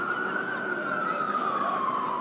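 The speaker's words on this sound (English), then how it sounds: "It's an ambulance." A steady ambulance siren tone slowly falling in pitch, moderately loud and continuous, passing nearby in Times Square, with no one talking.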